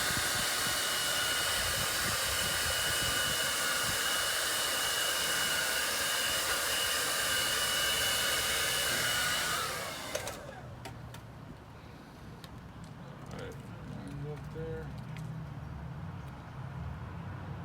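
A heat gun roars with a loud, steady rush of hot air for about ten seconds while a 2018–2020 Honda Accord Sport 2.0 mod is fitted, then cuts off, leaving quiet handling noises.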